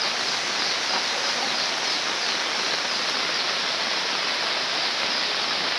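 Floodwater rushing past, a dense unbroken roar of moving water, loud and close, holding steady with no voices.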